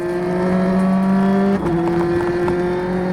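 A Hyundai rally car driving a stage of the 2002 Rallye Sanremo, heard as a loud, steady engine drone with a brief dip and gear change midway before the engine pulls on again.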